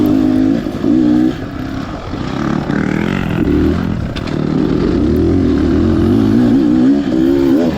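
A Beta Xtrainer 300 dirt bike on a practice lap of a rough site course, its two-stroke engine loud and close, revving up and dropping off continuously as the rider works through the track.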